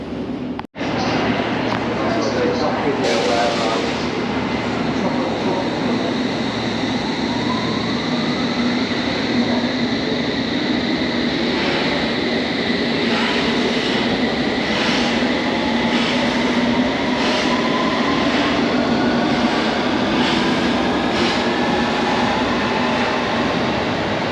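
A London Underground Circle Line train runs steadily with a loud rumble, rattling carriage noise and faint wheel squeal throughout, heard from inside the crowded carriage.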